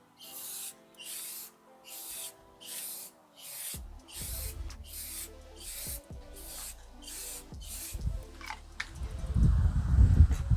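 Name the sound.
aerosol spray paint can spraying headlight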